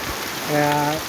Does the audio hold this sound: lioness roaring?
no